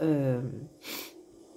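Someone speaks briefly and then takes one sharp, breathy sniff through the nose, close to the microphone.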